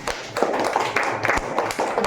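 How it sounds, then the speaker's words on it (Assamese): An audience claps for quiz winners at a society quiz competition, a short burst of quick, close hand claps with a few sharper taps. "হাত চাপৰি দিয়া।"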